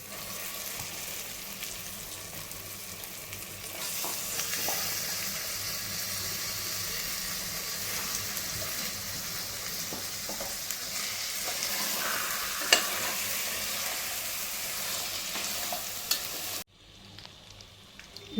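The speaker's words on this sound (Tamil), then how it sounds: "இப்போ நம்ம எடுத்து வச்சுருக்க 1/2 kg சிக்கன் போட்டுருவோம்" Half a kilo of chicken frying in oil-separated masala for Dindigul biryani, a loud, dense, steady sizzle with occasional stirring clinks, close up, cutting off abruptly near the end, with no voices.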